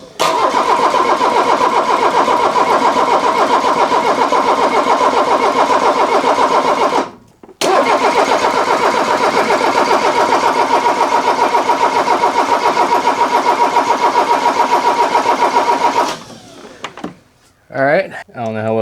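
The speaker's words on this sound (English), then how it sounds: "So what we'll do is crank it over until I start seeing fluid come out of each injector." A seized 1984 Mercedes-Benz diesel engine cranks over in two long loud bursts of rhythmic starter churning with a short pause between them. People talk over the cranking.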